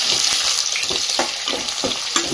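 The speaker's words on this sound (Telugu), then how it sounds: "ఇలా ఆనియన్ వేగుతుండగా" Thinly sliced onions, cut lengthwise, sizzle steadily in a pan for Guntur-style mutton curry, a constant hiss broken by several short scraping stirs, close and fairly loud.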